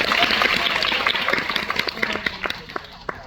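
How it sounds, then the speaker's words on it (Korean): A cinema audience at a film Q&A claps together, dense applause that gradually thins into scattered individual claps. "박수 한번 부탁드립니다."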